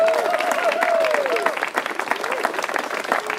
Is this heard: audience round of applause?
yes